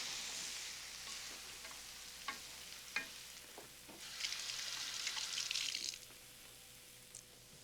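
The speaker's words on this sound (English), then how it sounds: "add the prunes and stir them through" Prunes stirred through a pan of food in a home kitchen, soft faint sizzling with a few sharp spoon scrapes and clicks against the pan, and a brief louder hiss of frying partway through.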